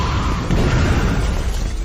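An explosion in a hyper-realistic AI-generated action scene: a loud, dense, sustained roaring blast with crashing debris-like noise filling the whole moment, with no speech.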